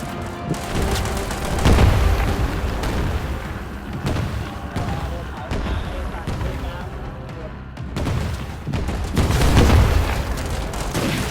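Artillery bombardment in the WWII mobile strategy game War Alert, with repeated heavy booming explosions and rumbling blasts swelling and fading, dense and loud throughout.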